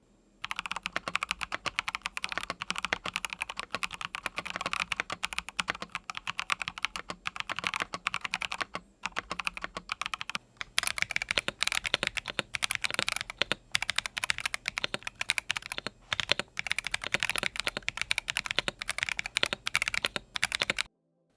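Typing on a Razer Blackwidow V4 Tenkeyless wireless mechanical keyboard straight out of the box, a continuous close patter of rapid key clicks with occasional short pauses and no voices.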